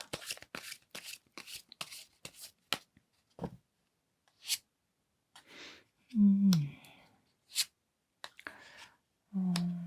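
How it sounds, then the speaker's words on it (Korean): Tarot cards riffle and snap in a quick run of crisp clicks and flicks, followed by softer sliding and placing of cards during a tarot reading, with brief voiced sounds and a sigh in between. "관계성에 대한 카드를 3장 뽑아 보도록 하겠습니다"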